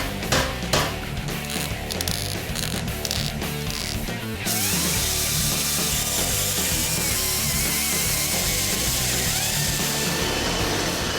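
A power tool cuts away a molded edge from a 1961 Chevy Impala metal body panel, first in short choppy bursts, then in a continuous loud, harsh grinding whine up close, with no talk.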